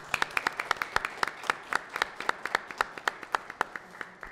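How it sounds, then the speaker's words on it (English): Applause at a public facilities commission meeting: a small group claps in a steady, crisp rhythm for about four seconds, close and fairly loud, with no talking over it. "we should give her a round of applause"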